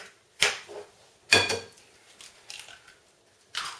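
Flour, baking powder and two eggs are stirred together in a bowl, heard as a few separate scraping, clinking strokes of a utensil against the bowl with quiet pauses between them.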